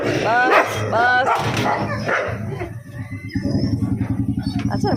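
Several village dogs, including two pregnant females, bark and yip excitedly at feeding time, close and loud, with a person talking over them and quieter whimpers and rhythmic lapping sounds toward the end.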